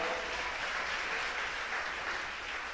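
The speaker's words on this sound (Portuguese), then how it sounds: "Você pode aplaudir o Senhor." A church congregation applauding during a worship service, a steady wash of clapping heard somewhat distant and moderately quiet, continuous throughout.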